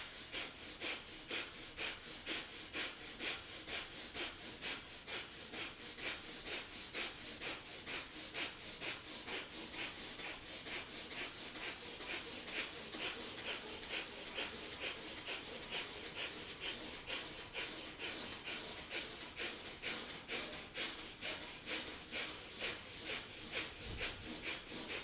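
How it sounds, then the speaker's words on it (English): Rapid, steady breath of fire from Kundalini yoga, sharp forceful exhales pumping in an even fast rhythm throughout, close and fairly quiet with no talking. "Stay with the breath of fire."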